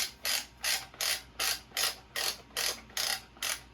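A First Strike T15 paintball magazine winder is cranked by hand, giving a quick, even series of about eight sharp ratcheting clicks, each a short mechanical burst, close and clear with no talking.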